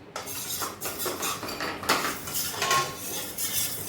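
Metal utensils clink and scrape against a plate while it is greased with ghee, a close series of light clatters and taps, with no talking.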